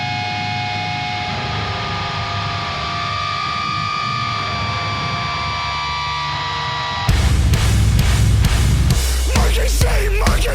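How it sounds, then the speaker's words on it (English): Electric guitar feedback with gain and distortion turned all the way up: a sustained, whining, noisy drone for about seven seconds, then a sudden loud burst of dense distorted noise with heavier low end. "it's just feedback from the guitar that is probably gain all the way up and distortion all the way up"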